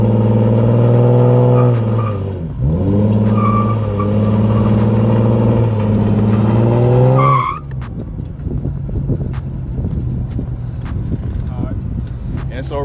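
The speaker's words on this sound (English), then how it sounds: "here go an example of what's going to happen if you just leave the car in drive while doing the burnout" A 2014 Mustang with an automatic transmission revs hard in drive during a burnout, with a loud sustained engine roar and rising pitch. The roar cuts off abruptly into a rough, crackling idle rumble.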